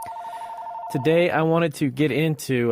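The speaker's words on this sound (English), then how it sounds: "so every now and then the phone does ring" An office telephone rings in an adjacent room as one steady electronic tone lasting about a second, then a nearby voice starts speaking and carries on to the end.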